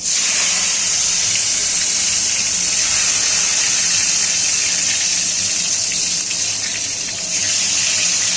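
Tomato frying in oil tempered with cloves, cinnamon and cardamom gives a loud, close, hissing sizzle that holds steady for the whole stretch, with no talking.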